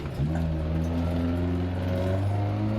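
Rally car engine in Dirt Rally 2.0 played in VR holds a steady, moderately loud hum with a rising pitch as the car accelerates, heard alone without talk.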